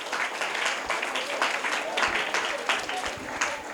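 A room full of people applauding, a dense steady wash of clapping that continues throughout without letting up.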